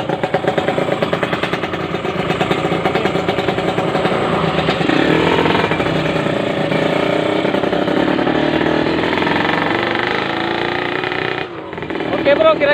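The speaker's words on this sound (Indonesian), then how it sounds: "langsung aja kita tes motornya ya" A Kawasaki Ninja 150 motorcycle being test ridden on a road, its engine droning loud and steady with a buzzy rattle throughout, dipping briefly near the end before picking up again.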